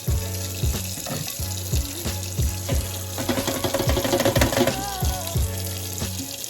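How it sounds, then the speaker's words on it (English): Hot water runs steadily from a tap, a constant rushing wash close by, with clattering and a hissing sizzle mixed in. "I have my hot water going just because of the oil that's draining."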